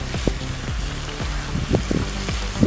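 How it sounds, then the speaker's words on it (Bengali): Ginger-garlic paste, cumin, chili paste and turmeric fry in a pan for an egg and soybean dish, giving a steady close sizzle with repeated stirring strokes and scrapes throughout. "এবার মশলাগুলোকে সামান্যক্ষণ কষিয়ে নেবো"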